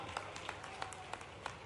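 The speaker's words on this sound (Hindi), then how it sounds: "तो ताली बजाओ, मैं बनाने की घोषणा करता हूं।" At a political rally, a crowd claps faintly and sparsely, a handful of distinct sharp claps spaced a few tenths of a second apart over a low background hum.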